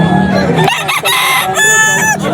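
Gamecock crowing loudly and close at a rooster market, a strong drawn-out cock-a-doodle-doo with harmonic calls overlapping, with no speech.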